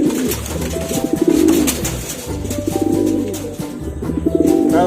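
Homing pigeons back at their loft coo repeatedly in soft, throaty rolling phrases, several birds close by, with faint chirps and rustling between calls.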